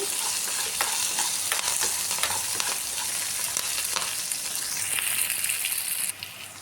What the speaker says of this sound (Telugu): కొంచెం జీలకర్ర, కొంచెం కరివేపాకు, వేసేసుకొని మంచిగా గోల్డెన్ బ్రౌన్ కలర్ అయ్యే వరకు వీటన్నిటిని ఫ్రై చేసేసుకోవాలండి